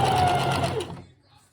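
A sewing machine stitches fabric for a small bunny in a steady fast whirr for nearly a second, then slows and stops, leaving near silence.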